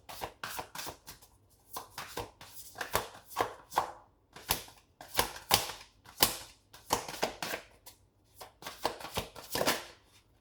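Tarot cards are shuffled close by in quick repeated riffling bursts, soft crisp flutters and taps continuing for about ten seconds with no talking.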